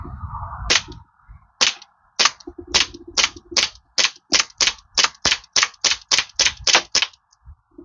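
A gun fires a full magazine of rounds into a gym foam target, about seventeen sharp, close shots in a steady rapid rhythm, with a brief low thump before the first round. No speech is heard.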